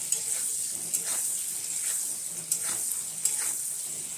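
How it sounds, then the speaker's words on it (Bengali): Steady crackling sizzle of mango pieces frying in oil for chutney, with a few brief sharper pops and scrapes from stirring, no talking. "একটুখানি ভাজা হোক।"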